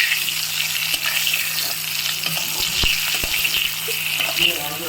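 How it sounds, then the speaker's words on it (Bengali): Potatoes sizzle steadily in a hot pan while being flipped over, salt and turmeric added, with a few soft clicks and scrapes of the spatula against the pan under the constant close frying hiss. "আর একদিকটা ভাজা হয়ে গেছে আলুটা, আর একদিকটা ভাজছি।"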